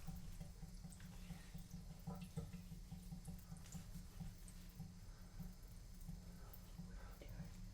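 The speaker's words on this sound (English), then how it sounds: "rinse this off, and I'll actually get some water" A tap runs to rinse a shaving razor, a faint, steady stream of water with light splashing that continues unbroken, with no talk over it.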